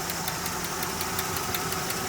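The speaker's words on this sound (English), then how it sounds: "Just sitting here idling. A little bit of lifter tick." A 1966 Chevrolet Caprice V8 idles steadily with a light, rapid lifter tick ticking evenly over the loud, close engine rumble, no talking.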